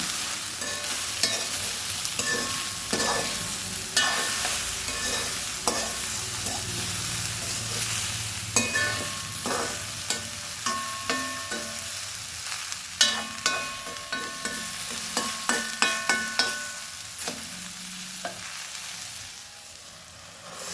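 Okra thoran stir-fry with turmeric and salt being stirred in a pan, a spoon scraping and clattering in irregular bursts over a steady close sizzle, with no talking.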